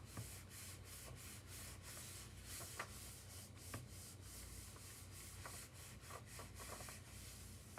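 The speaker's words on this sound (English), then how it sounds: "I'm holding it and rubbing it with one hand so it doesn't move." Steady hand rubbing on a craft piece held still with the other hand, a continuous soft scraping friction with faint brief ticks, close up and alone.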